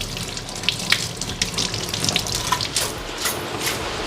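Running tap water splashing steadily over chillies being washed in a home kitchen sink, a continuous close hiss with small splashes and clinks throughout, no voices.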